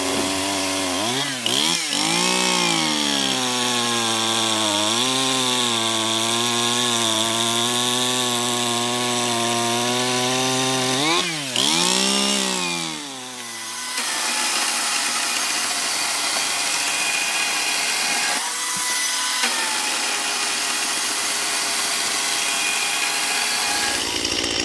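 A Greenworks 60V GEN2 16-inch cordless chainsaw cutting wood, its whining motor rising and falling in pitch as it bites into the log, then a quieter steady run near the end, close and loud with no talk.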